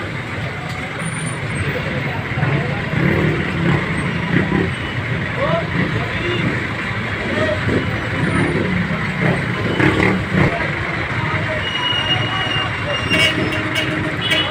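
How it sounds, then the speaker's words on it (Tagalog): A jeepney rolls past amid heavy road traffic, a steady dense rumble of engines and passing vehicles that goes on throughout, with a voice speaking over the noise. "daanan tayo ng jeep dito"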